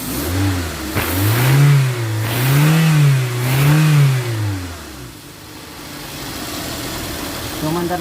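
A Toyota Avanza engine running after a crankshaft sensor and spark plug replacement for a crank-no-start P1604 fault, revved three times in quick swells before settling to a steady close idle.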